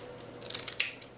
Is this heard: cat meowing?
no